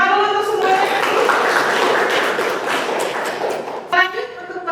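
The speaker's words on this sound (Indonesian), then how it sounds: "Tepuk tangan dulu untuk semuanya." A crowd claps in a dense burst of applause, with a voice speaking at the start and end.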